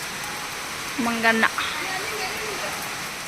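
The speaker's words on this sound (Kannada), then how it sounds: "ಇಲ್ಲಿ ನೋಡ್ರಿ ಮಳೆ ಬರಾತೈತಿ." Rain falls steadily outside the Kalakaleshwara temple in Gajendragad, Gadag, as a soft, even hiss in the background, with a brief spoken word over it.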